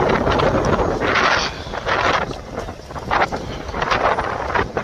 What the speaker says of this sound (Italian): Questo vento è letteralmente terribile.